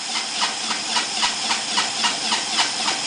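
A fischertechnik pneumatic compressor motor runs continuously with a rhythmic, hissing chuff that pulses about three times per second, steady and moderately quiet.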